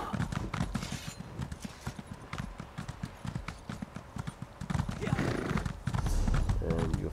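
Horse hooves clip-clop in a steady rhythm across ground in an Elder Scrolls video game, close and distinct, with a brief neigh and voices talking over parts of it.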